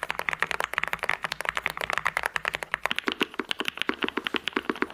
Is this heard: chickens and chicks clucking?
no